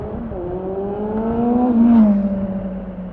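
A motorcycle engine revs and climbs in pitch on an Albanian road during a Balkan tour while the rider tries to pull a wheelie, a steady close drone rising then easing off, with wind rush and no talk.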